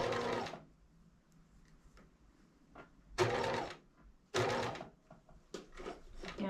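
A sewing machine runs in short separate bursts as it stitches along piping cord on a Charm Scout capelet, with three or four close, loud runs broken by quiet pauses and the faint sounds of handling.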